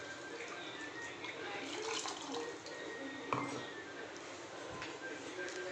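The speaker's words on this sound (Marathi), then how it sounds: "ते टोमॅटो परतून झालं तर टाकते पाणी." Tomato-boiling water pours into a pan of sautéed tomatoes for tomato saar, a quiet continuous splashing trickle heard close up in a kitchen.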